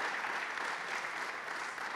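An audience claps in a dense, steady burst of applause that fills the room, with no voices over it.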